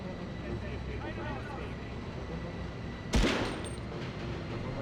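A single sharp gunshot in the video game Medal of Honor cracks out near the end of a steady rumbling background, with a short decaying tail.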